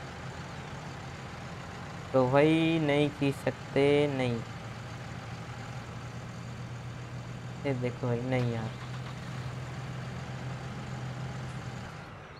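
Several tractor engines idle together in Farming Simulator 19, giving a steady low drone throughout while someone talks over it in two short bursts.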